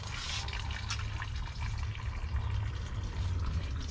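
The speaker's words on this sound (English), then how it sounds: "So right now, let's just put some water in there, then we continue going." Water pours from a watering container onto a dry, drooping container plant, a steady close splashing and trickling that runs the whole time with no talk.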